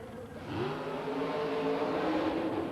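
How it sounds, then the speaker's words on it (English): A nitrous-injected Ford race car engine revs hard under throttle at a 1990 Orlando motorsport event, a steady loud roar with rising harmonic pitch that jumps up about halfway through. "As you heard the RPMs go to the moon there for a second."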